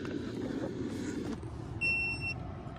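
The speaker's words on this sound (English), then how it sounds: "We just got the little beep letting us know that we're connected." A short electronic beep from a diagnostic scanner connecting to a hybrid car sounds once near the end, a clear steady tone over a low background hum of an engine or room noise.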